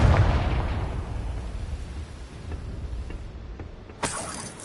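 Confringo blasting spell in Hogwarts Legacy: a loud, rumbling explosion that slowly fades, followed a few seconds later by a second sharp, bright blast.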